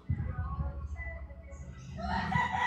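A rooster crows nearby, a long drawn-out call that rises in pitch toward the end, heard alone outdoors.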